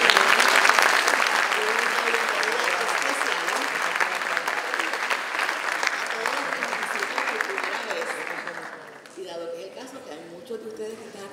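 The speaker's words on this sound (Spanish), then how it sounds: "yo quiero que se den un aplauso a ustedes mismos" A crowd at a student leadership showcase claps together in sustained, even applause that holds strong for several seconds, then drops off sharply, leaving a few scattered claps and murmuring voices.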